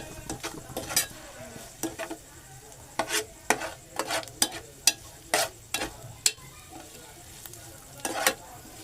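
Onion and val beans sautéed in a pan for an Alibag-style bhaji, a constant sizzle broken by frequent sharp spatula scrapes and knocks against the pan, fairly close with no talking.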